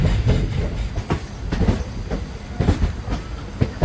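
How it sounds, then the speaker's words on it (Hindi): A 12-coach Bongaon–Sealdah local passenger train of Eastern Railway passes close by, its wheels clattering over rail joints in a steady rhythmic clickety-clack, loud and without voices. "और सामने जो आप ये लोकल ट्रेन देख रहे हो"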